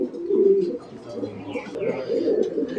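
Soft, low cooing of fancy pigeons at a pigeon and poultry farm in Muktagacha, Mymensingh, a few rounded throaty coos close by, rising and falling in short phrases with faint rustling between.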